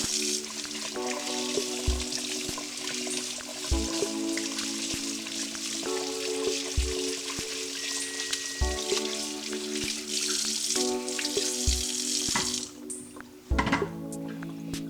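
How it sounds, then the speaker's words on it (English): Steady hiss of running tap water over a sweet potato being rinsed in a kitchen sink, continuous and fairly close, under rhythmic background music with a thumping beat. "wash my sweet potato"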